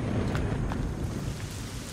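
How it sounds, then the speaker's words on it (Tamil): Steady heavy rain pours down with low rumbling thunder underneath, a dense continuous wash of sound with no voices. "அம்மா மழை வருதுமா"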